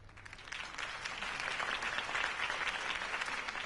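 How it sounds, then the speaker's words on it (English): Crowd applause in the Batman Telltale Series game, episode 1, a dense steady burst of clapping from a large gathering after a campaign speech, loud and continuous for several seconds. "If only Mr. Wayne, my campaign's largest backer, could have heard that applause"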